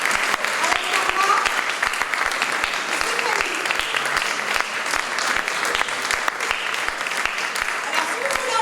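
Sustained applause from an audience at a literary discussion event, steady and dense throughout with scattered sharp claps standing out near the front, continuing at an even level for the whole stretch.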